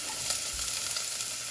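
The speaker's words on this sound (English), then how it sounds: "So my pan is ready. I'm gonna go ahead and add some onions" Chopped onions sizzle steadily in a hot pan for a green gram dish, a continuous crackling hiss at close range with a brief low thump near the start, no voices.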